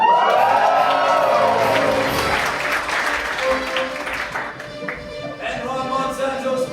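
Live audience at an improvised Dungeons & Dragons show cheering and clapping together, a loud, dense crowd roar with whoops that holds steady for several seconds before thinning slightly.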